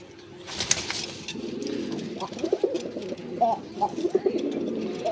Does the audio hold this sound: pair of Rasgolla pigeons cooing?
yes